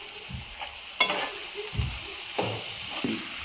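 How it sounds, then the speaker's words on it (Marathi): Broccoli fries with spices in a pan: a soft background sizzle broken by several close, distinct scrapes and clacks of stirring at uneven intervals, with no voice. "मसाले चांगले फ्राय झालेले आहे. आपण ब्रॉकली ॲड करूया."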